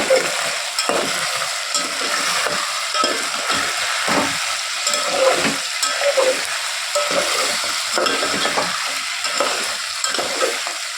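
Mutton gravy curry made with green chilli paste and red chilli powder is stirred in a pan, with a continuous close sizzle under rhythmic spatula scrapes and occasional light clinks against the metal.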